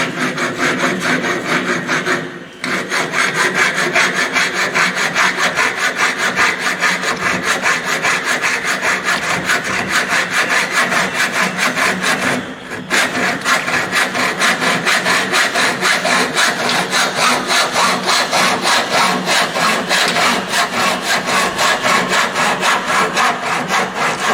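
Steady back-and-forth hacksaw cutting of an aluminium window frame, a continuous rasping cut broken by two brief pauses, loud and close with no talking.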